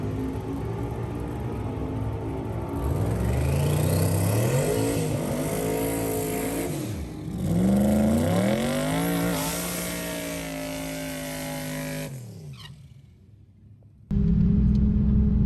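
Drag racing car making a test pass at a Oklahoma City drag event, a loud rumbling engine climbing and shifting through several revving sweeps as it pulls away, then fading before another engine rumbles up close.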